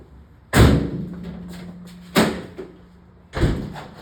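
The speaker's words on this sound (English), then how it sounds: "Probably have to shut this door because of the sun." A door is pushed shut in a garage-like space, giving a sharp slam followed by a rattle, then another thud and a final firm bang, each close and loud.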